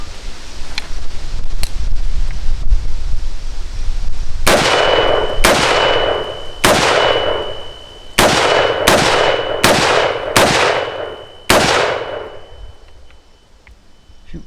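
Rifle rounds, likely from an AR-15, strike a steel target outdoors: about eight sharp impacts in an irregular sequence, each leaving a bright metallic ping that rings briefly before fading, with fainter taps earlier on.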